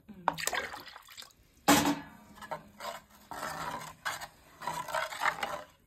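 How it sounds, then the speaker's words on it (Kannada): Water poured into a village-style Mangalorean fish curry gives several short splashing, trickling bursts between pauses, with people talking nearby. "ನಾವೀಗ ಸ್ವಲ್ಪ ನೀರು ಹಾಕ್ತಾ ಇದ್ದೇವೆ"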